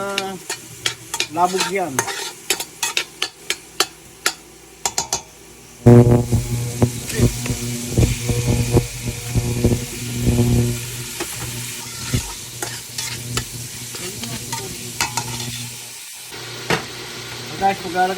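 Onion frying for pancit canton, stirred in a hot pan with a steady sizzle, near and fairly loud, the spatula tapping and scraping in bursts, with a few words spoken over it.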